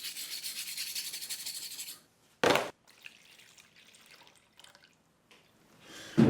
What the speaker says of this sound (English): I'm going to clean the knife up by just giving it a good wire brush